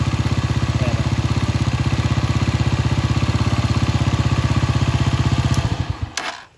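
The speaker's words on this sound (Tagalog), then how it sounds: "Dahil tumatakbo yung motor natin." A motorcycle with a swollen, overcharged battery idles close and loud, its engine thumping in fast, even pulses, then sputters and cuts out just before the end.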